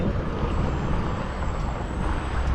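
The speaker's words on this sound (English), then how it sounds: "not that bad for having a big truck pass us" Big truck passing close by on a road, a loud rushing roar with a high thin air-brake squeal drawn out across the middle, steady and unbroken.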